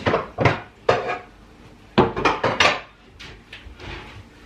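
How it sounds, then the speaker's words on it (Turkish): Pots and pans clattering and knocking in a home kitchen while pasta water is being set up, a series of sharp, close bangs and scrapes coming in irregular clusters with short pauses between them. "Hemen bir makarna suyu koyayım."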